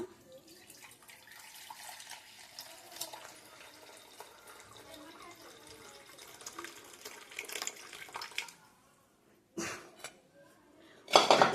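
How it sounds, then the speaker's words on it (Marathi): Water trickles and splashes steadily while being strained from cooked mustard greens, with faint clinks of a pot and utensils, then a pause and a louder closing clatter. "पाणी पण गाळून घेऊया"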